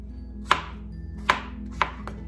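Knife slicing through a Hami melon on a board, three crisp cutting thuds followed by a softer fourth, close up and alone in a quiet room.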